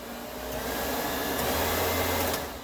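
A Vintage Heaters cab heater fan in a Mahindra Roxor OTR switches on and blows in a steady, whooshing hum with a low motor drone, running loud and even throughout with no talking.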